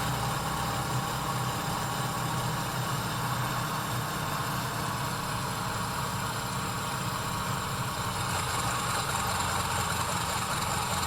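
A Sukhoi Su-31 aerobatic plane's piston engine drones steadily at low power in Microsoft Flight Simulator, a constant dense buzzing hum with no change in pitch.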